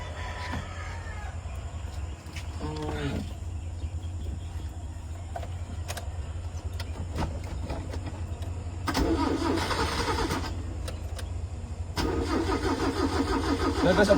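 A Kia Pride engine cranks and turns over, then settles into a steady idle with occasional revving; a rooster crows faintly in the background.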